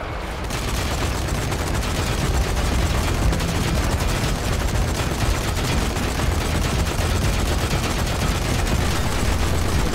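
Continuous, dense gunfire from the video game Zombie Army 4 rattles on loudly and without pause, a steady wall of overlapping shots with no clear gaps or talk.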